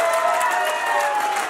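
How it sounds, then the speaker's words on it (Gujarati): Audience clapping at a sangeet evening, a dense, continuous wash of applause with some crowd noise, steady and fairly loud throughout. "આ એન્કરના કામથી જો તમને મજા આવી તો પ્લીઝ એક વાર તાળીઓ મારા માટે પણ થઈ જાય."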